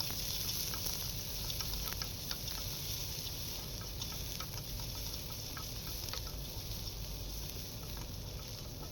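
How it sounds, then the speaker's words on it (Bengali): Onions and garlic frying in oil in a kadai give a steady, close hiss that runs unbroken throughout, with faint stirring clicks scattered through it. "সুন্দর করে ভাজা ভাজা করে"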